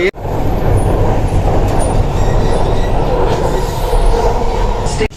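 A metro train pulling in, heard from close by as a loud, steady roar with faint squealing and hiss, the rumble holding at full strength for about five seconds.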